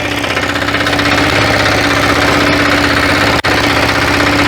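A walk-behind tractor's small single-cylinder engine idles with a steady, rapid chugging putter, close and loud, with one brief dropout near the end.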